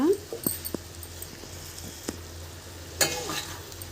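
Drumstick and dried shrimp curry sizzles and bubbles steadily in a pan, with a few sharp clinks of stirring over a soft, constant frying hiss.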